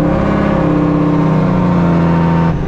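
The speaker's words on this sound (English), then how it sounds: "This truck is loud." A fully loaded farm truck rolls down the road, its loud engine droning steadily up close with a low, throbbing rumble that shifts slightly near the end.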